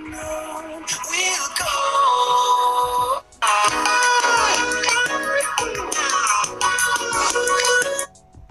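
Music from a YouTube sample plays through the small built-in speaker of a Realme X2 phone, loud and continuous with a tinny, bright tone and a brief drop near the middle.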